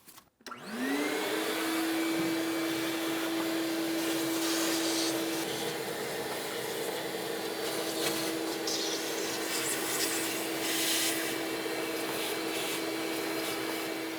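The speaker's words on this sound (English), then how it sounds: "I'm just going to use a vacuum." A vacuum cleaner runs steadily and loudly with a sustained whine, removing debris from a Ford Transit 3.7L V6 engine, suction noise shifting slightly as it works, with no talking.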